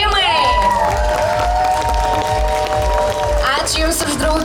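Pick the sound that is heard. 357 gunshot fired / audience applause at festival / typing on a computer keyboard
audience applause at festival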